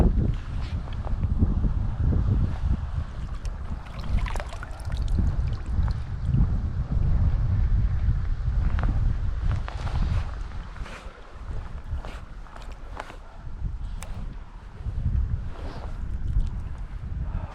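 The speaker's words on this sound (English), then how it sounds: "A wee bit windy now." Gusty wind buffets the microphone outdoors by the River Lochy in Scotland, a rough, uneven rushing with occasional knocks and rustles.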